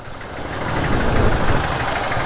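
A stock 150cc Yamaha TFX 150 motorcycle engine with a Mio M3 injector runs nearby, giving a steady, rough mid-pitched drone that swells slightly in loudness, with no talk.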